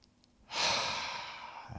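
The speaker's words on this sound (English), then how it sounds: "so breathing in" A single slow, audible breath during a lying yoga stretch, starting after a quiet pause and swelling into a long, airy exhale that fades gradually, close and soft with no speech.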